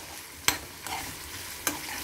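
Onions with red chillies and curry leaves stirred in a tempering pan for a ridge gourd and moong dal dish, giving three sharp scraping clinks of a spoon over a steady low sizzle, close and fairly quiet.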